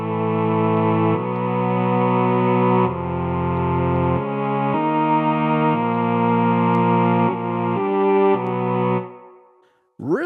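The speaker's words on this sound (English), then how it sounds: "Now let's just have a listen to the strings real quick." A Cherry Audio Novachord synthesizer plays a sustained strings patch, with rich, harmonically dense chords held one after another for about ten seconds before the sound cuts off.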